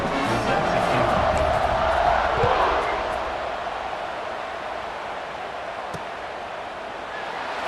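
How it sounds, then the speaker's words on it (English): Steady stadium crowd roar in College Football 26 during a Northwest Stallions at BYU Cougars game, a dense buzzing wash that swells early then settles to a lower constant murmur. "this crowd is buzzing after that last score"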